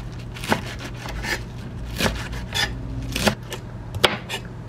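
Knife chopping lettuce on a cutting board at home, a series of crisp, close cuts in an uneven rhythm, about six distinct strokes with quieter rubbing between them, no talking.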